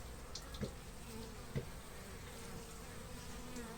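Honeybees drone at a hive entrance while pollen is carried in: a steady, close swarm hum with a few louder passes as individual bees fly near.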